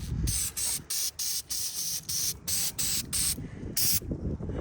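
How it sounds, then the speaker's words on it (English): A spray bottle is pumped repeatedly over a Mustang EcoBoost engine bay, giving about a dozen short, sharp hissing spritzes in a quick, steady rhythm, up close. "so I'll just spray this pretty much everywhere"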